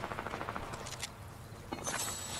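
Fortnite gunfire crackles in quick repeated shots, somewhat distant and moderately loud, with a few sharper bursts over a busy game background.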